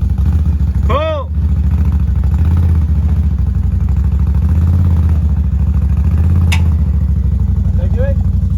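A Can-Am off-road vehicle's engine running loud and close while pulling a car across grass, a steady low droning rumble throughout with brief vocal shouts over it.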